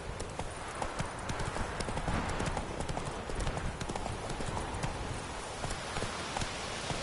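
A horse gallops in the video game The Witcher 3, its hooves beating a fast, continuous, crisp clip-clop at a steady moderate level over soft background ambience.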